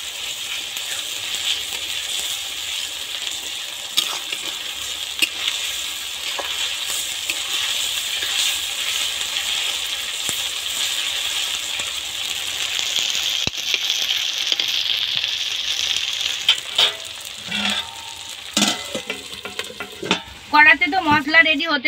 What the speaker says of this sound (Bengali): এবার এই তেলের মধ্যে আদা রসুনের পেস্টটা দিয়ে